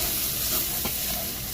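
Tomato paste and seasonings for jollof rice stirred in a pot, a steady close sizzle and fry with a soft scrape of stirring through the short stretch.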